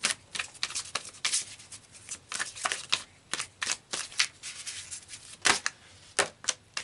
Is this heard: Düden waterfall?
no